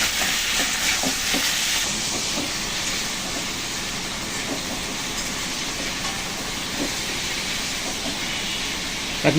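Prawns frying in a wok with turmeric produce a continuous, moderately loud sizzle and hiss, steady and unbroken with occasional small pops, no voices over it.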